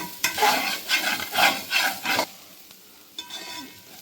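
Fresh grated coconut being stir-fried in a pan for jaggery rava laddu, with several quick scraping stirs over a soft sizzle. The stirring stops partway through, leaving a quieter hiss and one last scrape.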